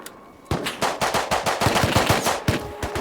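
Automatic rifle fire from an AK in a multiplayer video game base fight bursts in loudly after a brief quiet start, with rapid repeated shots and a couple of short pauses.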